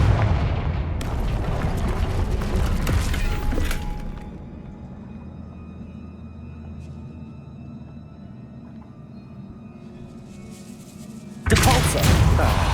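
Confringo spell blasts in Hogwarts Legacy burst loud and close at the start, fade into a low rumbling hum, then a second sharp explosion erupts near the end.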